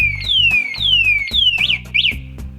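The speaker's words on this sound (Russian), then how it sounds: "Он начинает орать и сопротивляться." A 72V 3000W CityCoco BR60 three-wheeled electric trike scooter's anti-theft alarm blares loud and close, cycling through three falling siren sweeps, then quick rising-and-falling chirps over a low pulsing buzz.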